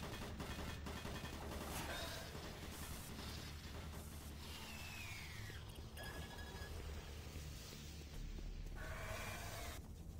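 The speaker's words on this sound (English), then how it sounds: "Warning, automated turret guns online." Automated turret guns fire in Doom 3 combat, a loud, continuous stream of rapid gunfire and crashing impacts that runs the whole stretch with no pauses, layered with game sound effects.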